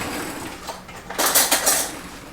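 A spoon picked up from among dishes in a kitchen during squash pickle prep, giving a short cluster of bright clinks and rattles over a faint background hiss, with no voices.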